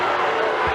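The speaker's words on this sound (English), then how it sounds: "And the crowd doesn't like it." Basketball arena crowd at a women's college game between Maryland and Oregon, a broad steady roar of displeasure after a foul, loud and sustained.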